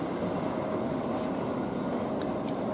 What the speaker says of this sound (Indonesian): Pas-pasan dengan kereta api Fajar Utama Yogyakarta kayaknya nih.